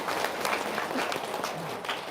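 An audience bursts into steady applause, dense clapping filling the room at an even level for a couple of seconds with no break.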